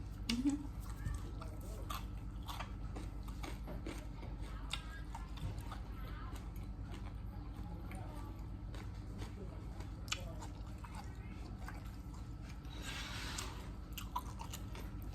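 Close crunchy chewing and biting of a Wagyu beef steak basted with butter and smoked, in repeated bites, with people talking over it at times.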